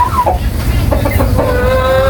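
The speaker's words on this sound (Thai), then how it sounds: "อันนี้เป็นไก่สายพันธุ์กินเนื้อเลยค่ะเด้อ ดำทั้งตัวเลย" Black meat-breed chickens cluck and squawk close by, several birds calling over one another, with a faint rising call near the end.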